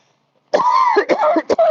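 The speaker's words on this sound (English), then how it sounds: "I'm like coughing in your ear" After a brief silence, a close, raspy coughing fit breaks out in several short, throaty bursts.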